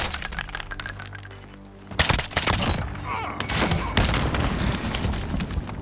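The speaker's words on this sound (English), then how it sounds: "you can see the power of how quickly you can fire this Type 63" Rapid fire from a Type 63 rifle in Call of Duty: Warzone: a tonal intro gives way to a dense, loud burst of quick cracking shots with jingling casings and thuds, continuing to the end.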